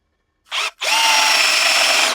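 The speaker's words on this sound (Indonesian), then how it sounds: "kita lanjutkan pengeboran pada media besi" Cordless drill boring into iron at speed 2, a short whirring burst followed by a longer continuous high-pitched drilling run, close and loud.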